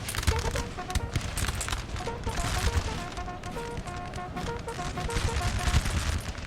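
Dense crackling musket volleys in a Napoleon Total War recreation of the Battle of Heilsberg, 1807: many overlapping shots ripple continuously over rumbling battle noise.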